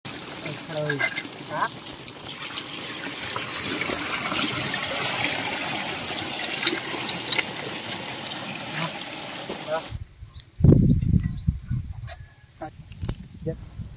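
Fish pieces are washed by hand in a vessel of water for a Sunday fish fry, with a steady sloshing, splashing wash that stops abruptly near the end, followed by a few louder close splashes and handling sounds.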